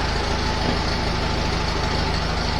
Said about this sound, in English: I like the sound of these little engines